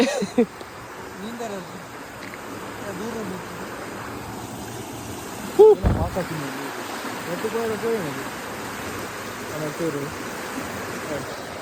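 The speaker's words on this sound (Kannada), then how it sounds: "ಎಂಚ ಏತು ಫೋರ್ಸ್ ನೀರು ಪಾಸ್ ಆವೊಂದುಂಡುಲೆ" Strong rushing flow of water passing through a river dam, a steady broadband roar filling the whole clip, with a brief thump near the middle and faint voices underneath.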